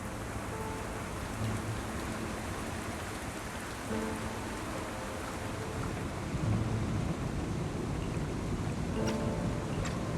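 Steady rain pours in Zenless Zone Zero, a dense even hiss of drops on surfaces filling the scene, with faint low rumbles beneath.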